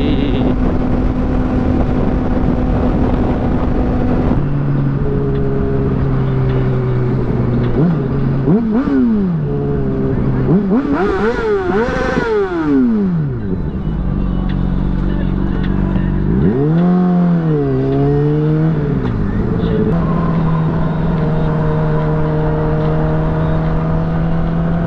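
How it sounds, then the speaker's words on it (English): Car cruising on a bumpy freeway, a steady close engine and road drone whose pitch rises and falls with throttle changes and rumbles throughout, with no clear talk over it. "This freeway is super bumpy."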